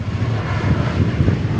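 An American airliner inbound from Phoenix roars past at Dallas Fort Worth Airport, its jet engines giving a steady, loud broadband rumble throughout with no talking.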